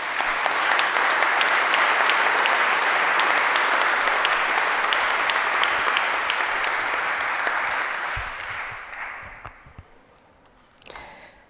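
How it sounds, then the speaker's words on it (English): Audience at the Belmarsh Tribunal in Sydney applauds, a dense, loud wash of clapping that holds steady for about eight seconds, then thins and fades with a few scattered claps near the end. "I ask you to applaud her for it"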